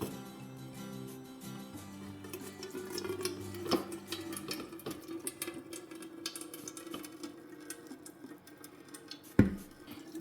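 Wet blended paper pulp poured into a strainer, with water splashing and draining continuously over about ten seconds and a sharp clatter near the end; no speech.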